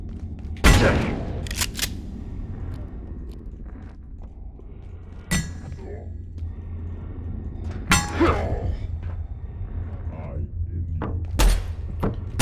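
Scattered gunshots in the survival game Abiotic Factor, a few sharp isolated cracks spaced seconds apart over a low rumbling background, with someone talking in between.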